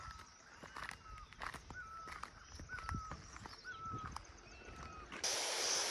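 Small birds chirp in short, repeated calls at a distance over a steady outdoor background near Mussoorie, Uttarakhand, and a rushing noise from a nearby waterfall swells near the end.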